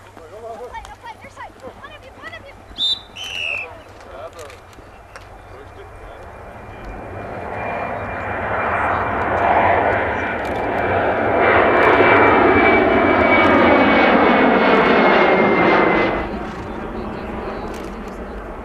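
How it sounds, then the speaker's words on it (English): A jet aircraft takes off near a polo tournament, its engine roar swelling loudly over several seconds and then fading, after a few brief sounds at the start. "I got a jet taking off."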